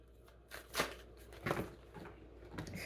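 Tarot cards being shuffled close by in a quiet room, with soft papery riffles and slides arriving in a few uneven bursts, faint and without speech.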